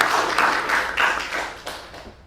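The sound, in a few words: classroom applause for a student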